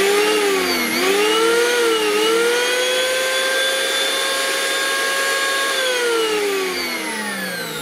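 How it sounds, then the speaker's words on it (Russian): An Interskol R-110/1100M electric hand planer running idle with no cut, a loud, steady high-pitched motor whine that dips briefly at the start, then holds close and constant, with no speech. "Давайте попробуем запустить его. Рубанок мощный,"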